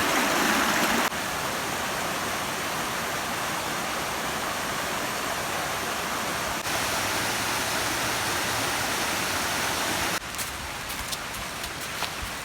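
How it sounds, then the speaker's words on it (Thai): Water rushing steadily at Krathing waterfall in Chanthaburi, a loud, continuous broadband roar of flowing and splashing water with no talking. "เดินตะลุยน้ำตก สำรวจน้ำตกกระเทง"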